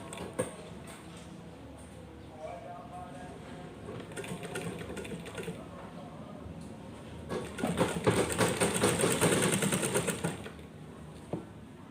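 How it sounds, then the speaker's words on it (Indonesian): A sewing machine stitching the neckline lining onto the front bodice of a garment, running in a steady mechanical whir that stops, restarts and swells louder near the end, close and alone. "kalian matikan, jahit terus"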